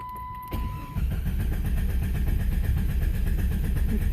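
Starter cranking a 1997 Jeep Grand Cherokee Laredo engine that refuses to fire after a crankshaft sensor replacement, a steady rapid rhythmic churn close to the microphone for several seconds with no catch.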